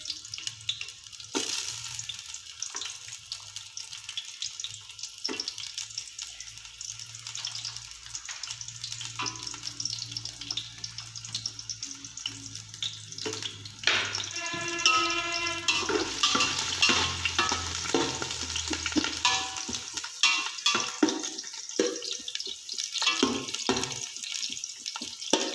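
Onions go into half a cup of hot oil and give a sizzle with intermittent stirring and clattering. Running water joins in partway through, and the frying grows louder and denser in the second half.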